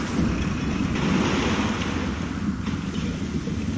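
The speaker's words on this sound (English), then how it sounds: "Oh, that was me splashing." Water splashing in BioShock, a steady broadband wash of sloshing and spray that runs loud and close for the whole stretch, with no voices over it.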